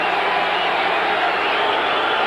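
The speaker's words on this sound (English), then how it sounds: "Garden crowd comes alive." A Boston Garden basketball crowd during a 1988 Celtics–Trail Blazers game sends up a steady, dense roar of cheering with no breaks.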